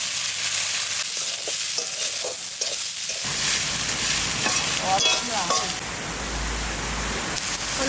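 Long beans (borboti) fry with onion in oil in a wok, giving a loud, rain-like hiss with spatula scrapes and clinks as they are tossed about.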